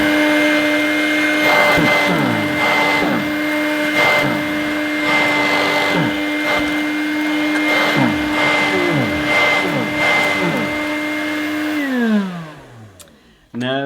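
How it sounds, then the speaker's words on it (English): A rather filthy Dirt Devil Hardy handheld vacuum cleaner runs with a loud steady whine close by, its pitch dipping rhythmically as it is pushed over a dusty footstool, then spinning down at the end. "I'll try one more time on this footstool, this rather filthy Dirt Devil Hardy, to see if I can get some of that very fine dust out of this footstool."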